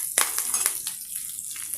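Spices and curry leaves tempering in hot oil in a pan for a village-style brinjal chutney, a soft steady sizzle with a few sharper crackling pops near the start, fairly close and alone.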